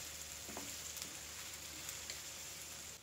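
Chicken feet frying and being stirred in a pan, giving a steady continuous sizzle with a few faint scraping stirs, fairly quiet and alone with no talk.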